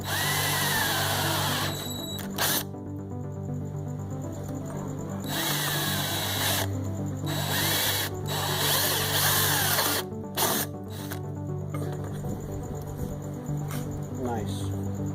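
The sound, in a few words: power drill drilling quarter-inch holes straight through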